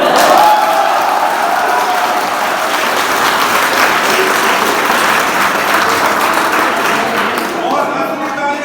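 A large crowd at an institute event claps in sustained, loud applause that fills the room evenly for several seconds before easing slightly at the end, with voices mixed in.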